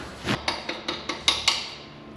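A hammer strikes a metal punch about seven times in a quick, even rhythm, each blow a sharp ringing clink, close and moderately loud, working on a 1970 Chevelle.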